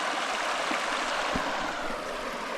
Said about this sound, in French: Et donc là, petit ruisseau